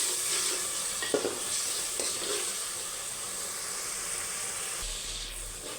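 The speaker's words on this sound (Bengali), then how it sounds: "এই যে তরকারিটা কষা দিচ্ছি আর কি, মশলাটা এই যে কষা নিতেছি" Spice paste for a taro root curry sizzles steadily in plenty of hot oil, a continuous close hiss with occasional soft scrapes of a spatula stirring it.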